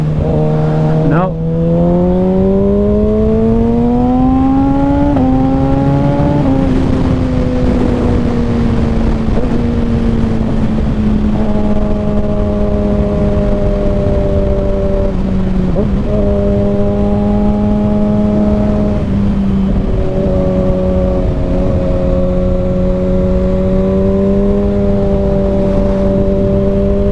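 A 2021 Kawasaki Ninja ZX6R sport bike with an M4 Street Slayer exhaust, riding twisty roads in the cold, gives a loud, close engine drone that climbs and drops in pitch through gear changes and throttle shifts, with steady wind noise.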